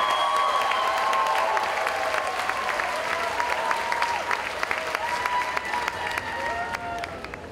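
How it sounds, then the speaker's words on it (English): A graduation commencement ceremony audience applauds the graduates in a steady, dense wash of clapping that fills the hall for several seconds, with scattered voices calling out over it. "Let's have a big round of applause for all the EML graduates."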